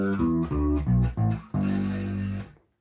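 Electric guitar run through a rack-mount effects unit, a few short processed notes followed by a longer sustained chord that cuts off abruptly.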